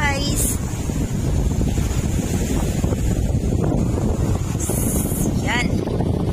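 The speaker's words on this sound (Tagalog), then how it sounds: "Ang sarap ng hangin, guys." Strong wind buffets the microphone by the sea on North Beach, Malapascua Island, Philippines, a constant roar with faint surf beneath, and a person talks over it.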